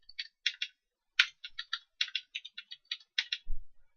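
Port numbers typed on a computer keyboard, about twenty crisp keystrokes in short uneven bursts, close and clear against a silent background, with a soft thump near the end.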